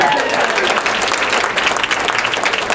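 Applause from a comedy club audience at Joke Joint, dense and steady throughout, with a voice talking faintly underneath.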